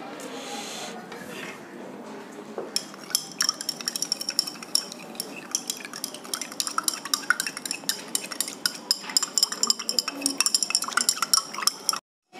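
A spoon stirs kitchen salt into water in a glass beaker, producing rapid, repeated light clinks and taps against the glass that grow denser over several seconds, with a voice speaking briefly at first.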